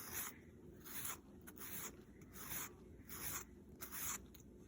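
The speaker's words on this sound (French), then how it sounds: "Alors, on lime toujours un seul côté." Nail file rasping across a resin-coated fingernail in one direction only, making about six separate close, dry scraping strokes with short pauses between them, and no talking.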